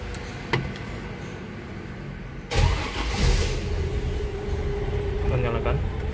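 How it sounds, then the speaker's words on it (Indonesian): A Toyota Land Cruiser FJ with manual transmission cranks and its engine catches midway, settling into a steady idle after a sharp starting burst, with someone talking briefly before. "Harus gua starter dulu nih mobil ini ya."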